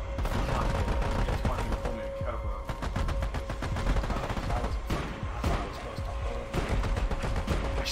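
Rapid, dense gunfire from the co-op shooter Army of Two runs almost continuously, loud and close, with talk mixed in.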